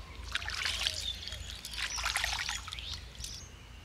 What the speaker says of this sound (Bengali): ভালো করে হাতটা ধুয়ে নিই।